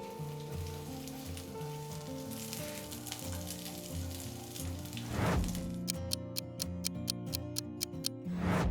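Onion cubes fry in oil in a kadhai with a soft steady sizzle beneath background music, followed by a run of sharp regular ticks near the end.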